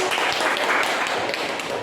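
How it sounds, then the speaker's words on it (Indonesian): Classroom applause from a group of students, a dense, steady patter of many hands clapping together that holds at an even level for the full stretch. "Tepuk tangan."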